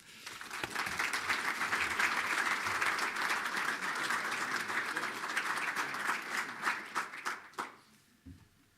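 An audience applauds as a church leader is welcomed at a morning gathering, steady sustained clapping that swells, holds for several seconds and then tapers off with a few last claps.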